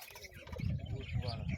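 Pigeons in a coop where young birds have hatched, soft low cooing that rises and falls under someone talking nearby.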